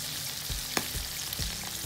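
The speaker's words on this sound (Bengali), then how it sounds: "আমি এটাকে ফ্রাই করে নিচ্ছি" Fish coated in turmeric and coriander powder frying in a pan, a steady soft sizzle with a few brief pops and crackles spread through, close and alone without talk.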